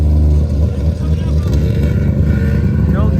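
Mazda drift car passing at a car meet, engine noise rising and falling close by for a few seconds, mixed with crowd chatter and people talking.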